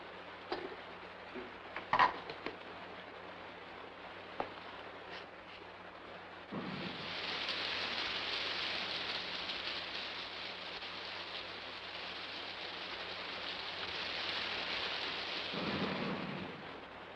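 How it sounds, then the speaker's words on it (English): Heavy rain pours steadily in a 1955 post-apocalyptic film, a dense broadband roar that swells after a few seconds and stays loud, with low rumbles of thunder and occasional knocks earlier on. "There's your rain, but good."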